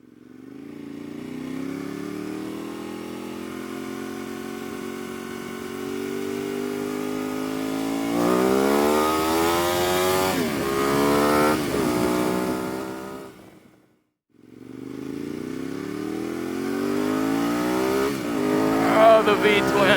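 A 2012 Ducati 848 EVO Corse SE V-twin motorcycle accelerates up a road, its engine climbing through the gears with loud rising revs, a brief drop on a shift, then pulling hard again.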